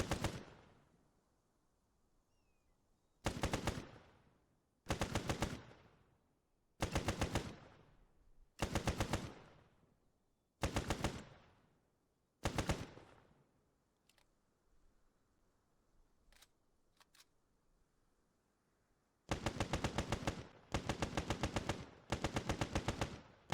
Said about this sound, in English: the Brent Mark II fires .303 rounds in a 30 round magazine and fires 520 rounds per minute